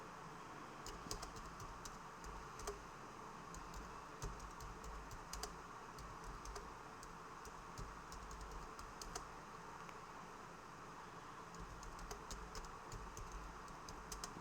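A computer keyboard is typed on as a text prompt is entered, with a steady run of quiet, quick key clicks in uneven bursts over a faint low hum and no talk.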